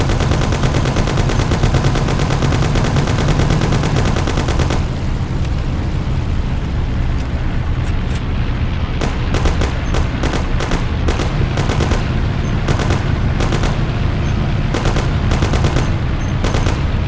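Gunfire from Mafia: The City of Lost Heaven, loud and continuous: dense rapid bursts over a steady roar of game action, with sharp individual shots cracking out repeatedly through the second half.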